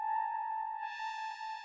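A Novation Peak synth pad holds a steady, bright sustained chord; partway through, a fast ensemble chorus adds a shimmering, swirling layer on top. No voices are heard.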